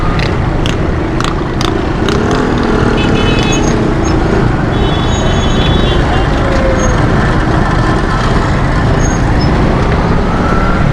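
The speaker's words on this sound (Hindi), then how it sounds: "उल्टी सीधी ट्रैफिक चल रही होती है यार" Chaotic road traffic in the Saddar market area, with a dense, constant roar of engines and horn blasts, loud and close throughout, as people talk nearby.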